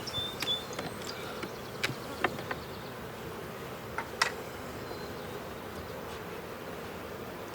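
Honey bees drone in an open brood-box hive, a continuous low buzz with individual bees flying close past now and then in brief louder swells, with a few light clicks and taps.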